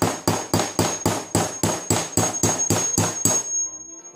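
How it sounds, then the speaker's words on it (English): Hammer strikes driving pins out of a CZ 75 SP-01 pistol slide with punches: about a dozen sharp, evenly spaced metallic blows close up, each ringing briefly, ending in a faint lingering tone. "So, punches, hammer, and go at it."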